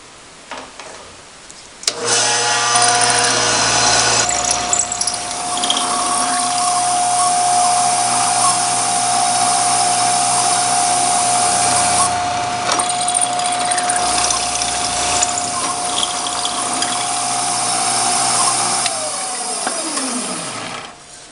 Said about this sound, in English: so I can drill this.